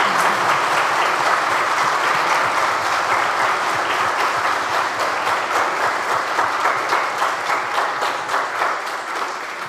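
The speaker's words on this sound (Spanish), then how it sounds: "Le damos un fuerte aplauso a Roselín por el año de vida que está." A church congregation applauds steadily after Mass, a dense, even wash of clapping from many hands that holds at a strong level throughout and tapers slightly near the end.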